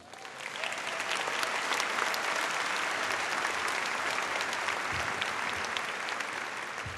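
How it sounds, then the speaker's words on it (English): A high school graduation audience claps and cheers in a large crowd, a dense, loud roar of applause that swells quickly and holds steady for several seconds with no speech over it. "Yes, you can applaud."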